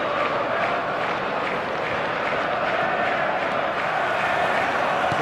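Stadium crowd noise in eFootball forms a steady, broad roar of massed voices and cheering, continuous and unbroken, heard at a moderate distance without any clear individual voices standing out.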